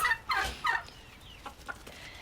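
Turkeys of a mixed two-heritage-breed cross gobble in a few short bursts close by, with a couple of fainter calls trailing after.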